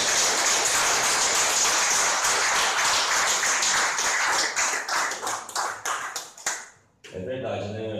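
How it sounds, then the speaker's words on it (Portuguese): A church congregation breaks into loud applause, a dense crowd of clapping that thins into scattered individual claps and fades out, followed by a voice starting to speak. "dá uma salva de palmas para Ele"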